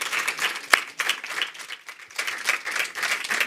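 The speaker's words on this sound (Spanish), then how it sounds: "Pido un aplauso para Sol y para todos." Applause from an audience at a Mexican legends event at Casa de México in Madrid, a moderate wash of many hands clapping with uneven swells and one sharp louder clap near the start.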